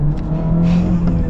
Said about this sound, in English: So we're setting off here on the Type R.